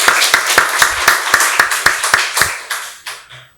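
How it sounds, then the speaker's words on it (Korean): A church congregation at Sunday worship claps together in a slow, even rhythm, about a dozen sharp, close claps that thin out and fade near the end. "박수로 하나님께 영광 돌리겠습니다."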